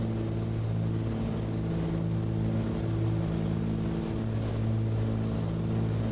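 Twin piston engines of a Cessna 414 droning steadily at cruise power in Microsoft Flight Simulator, a loud, even hum with no talk.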